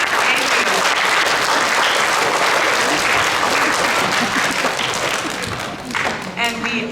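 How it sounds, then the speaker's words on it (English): Audience applause at an elementary school 4th and 5th grade music and band concert, loud sustained clapping from a crowd of families that fades near the end. "Let's give your families a round of applause for getting you here today."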